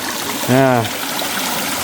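Water from Tat waterfall rushes in a steady stream. The constant flow continues throughout, and a voice briefly speaks over it.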